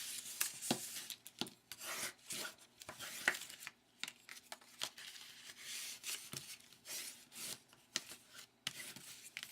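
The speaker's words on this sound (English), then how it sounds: "Fold them in half and burnish them" Folded paper is burnished by hand, giving soft, quiet rubbing and scraping strokes in an irregular rhythm, heard up close with no talking.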